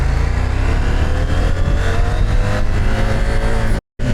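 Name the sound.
CFMOTO 800MT-X motorcycle engine revving during gear changes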